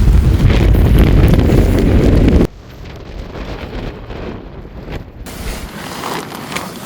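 Strong wind blasts across a mountain hike in Hooker Valley at the foot of a glacier, in rainy weather. A heavy roaring buffet of gusts hits the microphone for over two seconds, then drops to a quieter, lingering rush of wind.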